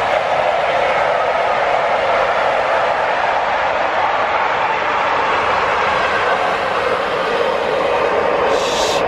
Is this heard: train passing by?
yes